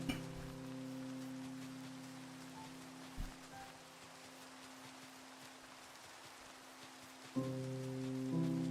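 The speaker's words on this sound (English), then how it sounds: "Oh great, it's raining." Soft steady rain falls in the Minecraft video game, a quiet even hiss beneath low sustained music tones that fade out and return, with a brief click partway through.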